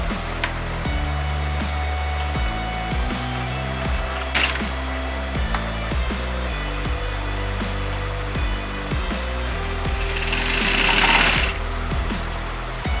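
A sewing machine stitches a blouse hem in a steady, rapid mechanical clatter with regular pulses, close and loud, with a brief whir near the end.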